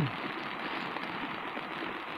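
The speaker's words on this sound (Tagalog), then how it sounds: "Lusong na naman tayo sa ulan mga master" Steady typhoon rain hissing down on a surface, a constant dense patter at moderate volume with no voices.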